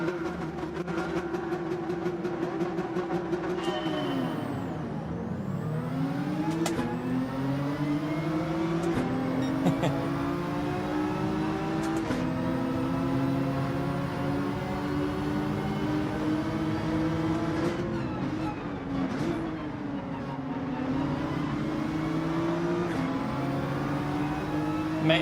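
A Nissan GT-R race car in Gran Turismo 7 launching from a standing start in a daily online race, its engine droning loud and close, revs dropping sharply at gear shifts then climbing again, with other cars' engines layered beneath.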